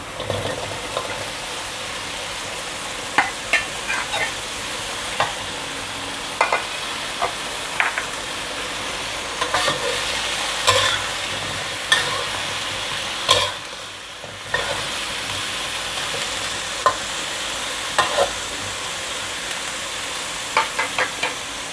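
Pork and vegetables stir-frying in a pan, a steady loud sizzle and hiss with regular scraping and tapping of the utensil against the pan throughout, close-up with no talk.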